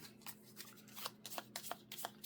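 Playing cards are shuffled during a tabletop card game, with quiet, close snaps and light riffling clicks repeating irregularly over a faint background hum.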